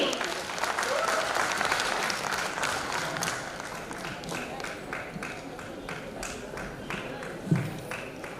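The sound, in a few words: audience applause at a celebration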